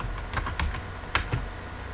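Keys clatter on a computer keyboard as a MySQL query is entered, a handful of quick, close taps in an irregular burst over two seconds against a low room hum, with no speech.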